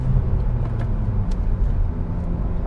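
2020 Honda Civic Si with a manual gearbox pulling away once the clutch comes up, heard from inside the cabin as a low, steady engine and road rumble with no voices.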